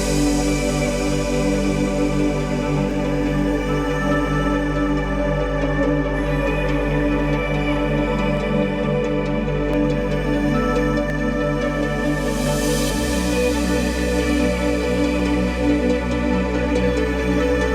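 An electronic music track break built around a sustained synth pad with layered tones and a low bass drone, a dense continuous wash that shifts pitch partway through, loud and steady with no voices.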